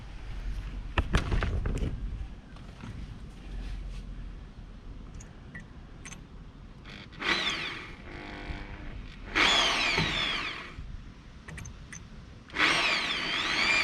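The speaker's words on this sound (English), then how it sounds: "make sure you drill right in the middle of the leftover" A power drill drills out a broken wheel bolt on a Peugeot 407, grinding in several short bursts separated by pauses, with a brief clatter near the start; steady, close, and fairly loud.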